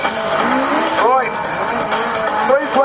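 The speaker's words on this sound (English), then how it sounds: "Terry is now donutting a 1200cc Legend" A 1200cc Legend race car doing donuts at Bug Jam 2009, its engine roaring steadily up close while the tyres let out rising, wavering skid squeals, with a louder squeal near the start and another near the end; voices chatter over it.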